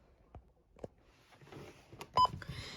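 Button beeps from a Midland WR120 weather radio's menu, a few short sparse clicks and tones with one clear beep near the end, close and fairly quiet.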